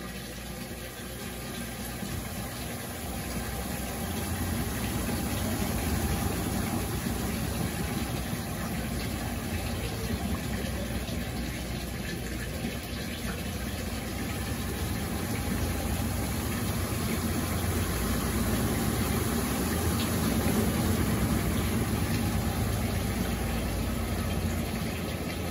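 A Brastemp Ative 9kg (BWL09B) washing machine loaded with three blankets spins up while its pump drains heavy water, giving a steady, loud whirring rumble that holds without pause for the whole stretch, with no voices.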